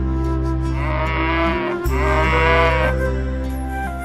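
Cows calling in a TV serial scene, a loud, close, drawn-out lowing that stretches over several seconds with harmonic wavering, over a low, constant background hum.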